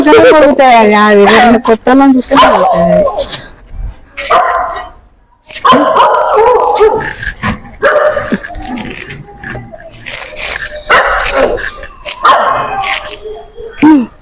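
Dogs bark and yip in bursts close by, mixed with people talking loudly throughout.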